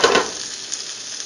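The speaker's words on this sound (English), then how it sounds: "So bacon's cooking good." Bacon sizzles and crackles in a pot, a brief steady hiss of frying fat heard up close with no voices.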